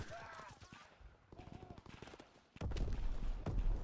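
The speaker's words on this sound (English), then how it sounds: "This is really the worst freaking pistol ever" Pistol gunfire in Call of Duty WW2 rings out as sharp, rapid shots, first scattered and lighter, then a dense burst of heavy shooting with explosions, while a voice speaks over the early part.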